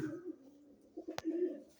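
A domestic pigeon coos softly nearby, a low throaty murmur in a couple of short phrases, broken once by a brief sharp click.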